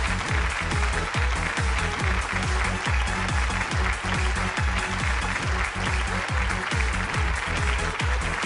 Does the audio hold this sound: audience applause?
yes